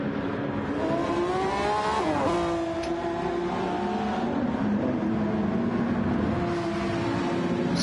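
Race cars lapping Monza in Gran Turismo 7, one sliding through turn 1, engines droning steadily with rising and falling pitch as they accelerate and shift, continuous and fairly loud with no talk.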